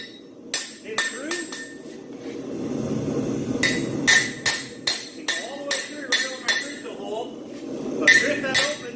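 A hammer drives a punch through a concave hind horseshoe to make stud holes, giving a run of sharp metallic clinks, scattered at first and then coming in a quick regular series, with someone talking underneath.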